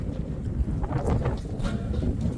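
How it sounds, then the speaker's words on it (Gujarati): Strong, gusty wind sweeps across an open farm field, a steady loud roar with rumbling buffeting against the microphone throughout. "વાવાઝોડા જેવો પવન ફૂંકાય હમણાં છેલ્લા ઘણા ટાઈમ થયા"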